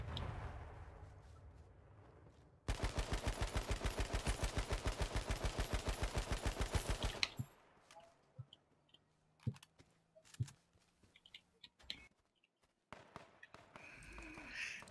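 Rapid automatic gunfire rattles in the battle royale game H1Z1 for several seconds, loud and evenly paced, then gives way to quieter scattered shots, clicks and sparse game sounds.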